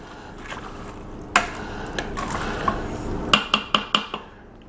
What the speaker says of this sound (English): So we're going to kind of mix this up pretty good, get it incorporated